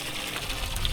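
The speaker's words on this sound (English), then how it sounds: "Got the water on full blast." Water runs at full blast into a koi pond, making a loud, steady gushing splash that stays close and continuous the whole time.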